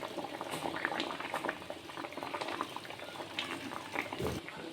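Mango sour, a tangy Bengali mango dish, boiling in a covered pot, a steady close bubbling and gurgling that continues throughout without talk.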